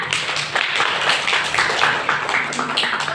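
Classmates applaud a student in a primary school lesson, a dense, lively burst of many hands clapping that continues steadily for a few seconds, with no voices over it.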